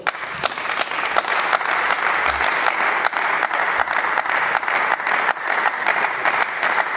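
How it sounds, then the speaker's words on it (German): Sustained applause from an audience after a political speech on the Austrian vaccine mandate law, a dense steady roar of many hands clapping with scattered sharper claps standing out, continuous for seven seconds. "Applaus"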